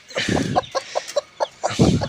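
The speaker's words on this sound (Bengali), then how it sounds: "এই বালির মধ্যে এখন মুরগিকে বাচ্চা সহ ছেড়ে দেব" A native hen with her chicks clucks in a quick run of short, loud, close calls, released onto sand with no talking.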